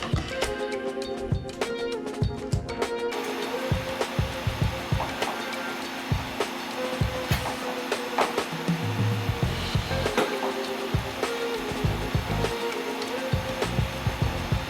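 A G-Nor orbital polisher with a buffing pad and medium grit compound works over a Telecaster guitar body, giving a steady close whirring drone with small shifts in pitch as pressure changes, and no talk.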